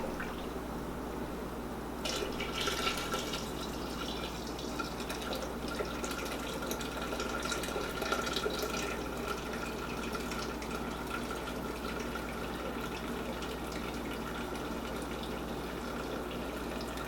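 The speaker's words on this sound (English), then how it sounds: "I'm going to pour some of the liquid back into the dye pot because I don't want to waste it" Pomegranate dye liquid pours back into a dye pot, a steady splashing trickle of liquid that runs on continuously, with a faint background hum beneath it.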